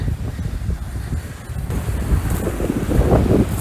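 Sea waves wash onto the shore at Zatoka on the Black Sea in a rough, continuous surge, with heavy wind buffeting the microphone throughout.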